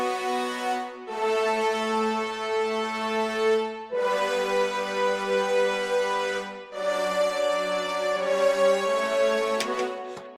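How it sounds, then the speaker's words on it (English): Layered sample-library orchestra of French horns, low brass ensemble and strings plays long swelling sustained chords in cinematic style, rich and full with brief gaps between phrases. "combine those French horns with low brass from East West as well, the brass ensemble from Native Instruments, and some strings on top of that"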